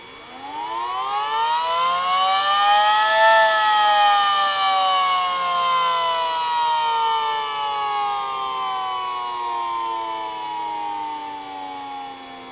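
Mini SD10 electric siren spinning up, its loud, close wail rising steeply in pitch over a few seconds and then slowly winding down while still sounding, with no talking.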